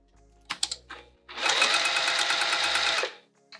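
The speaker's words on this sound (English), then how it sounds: "so we're going to sew it down again." A sewing machine stitches down a fabric sling, a rapid, close mechanical chatter running steadily for about a second and a half after a few light clicks of handling.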